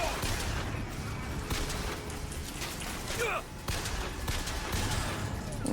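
Gunfire from a sniper in the video game Bioshock, a few sharp cracks over a dense, steady game soundscape of rumble and noise, with speech-like voices mixed in.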